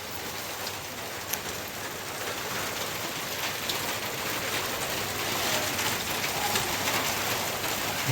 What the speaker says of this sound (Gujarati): વરસાદ ચાલુ છે મિત્રો.